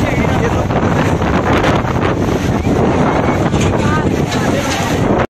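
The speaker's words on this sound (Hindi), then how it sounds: "बाकी उधर हवा चल रहा है" Strong wind buffets the microphone outdoors at a crowded Kumbh Mela gathering, a loud, continuous roar with a blustery rumble that holds steady throughout and cuts off abruptly at the end.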